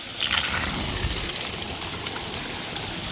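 Water pump nozzle spraying and refilling in a cycle like a repeatedly flushing toilet, a steady close rushing spray of water with a slight surge near the start, no talking.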